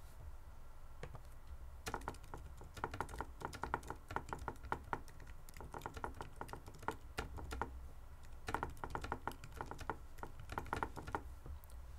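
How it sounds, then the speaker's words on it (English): Steady typing on a computer keyboard, entering keywords into a sound library's keyword box; clicky keystrokes come in quick bursts with short pauses, close and moderately quiet, with no talking. "begin to type out all the keywords you can think of"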